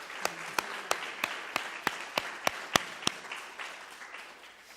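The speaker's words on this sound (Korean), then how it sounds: "감사와 영광의 박수를 올려드리겠습니다" A church congregation claps in unison during a Sunday service at a Korean church in Dresden, about ten sharp, evenly spaced claps followed by a softer scattered patter that fades.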